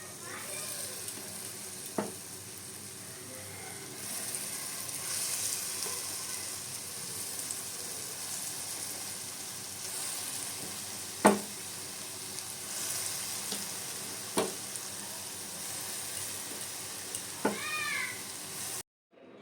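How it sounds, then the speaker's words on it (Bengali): Matar dal fritters (bora) fry in hot oil with a continuous soft sizzle, broken by a few louder splashes and pops as pieces are dropped in one by one. "আমি পুনরায় আগের মতন এক এক করে দিয়ে ভেজে নেব।"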